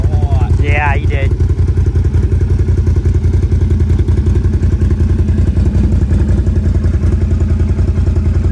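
A Can-Am Outlander 1000 ATV engine drones loud and close with a steady throbbing pulse and clatter; a person talks briefly near the start.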